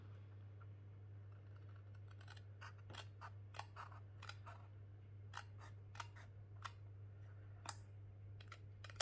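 Scissors snip paper while a scrapbook album is being made, a series of soft crisp cuts at an uneven pace over a quiet steady hum, close and faint.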